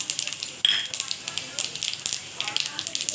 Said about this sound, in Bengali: সর্ষের তেলটা গরম হয়ে এসেছে, আমি 5 ফোড়নটা দিয়ে দিচ্ছি আর শুকনো লঙ্কাটা